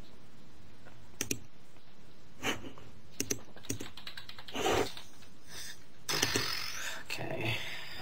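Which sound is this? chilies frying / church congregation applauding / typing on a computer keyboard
typing on a computer keyboard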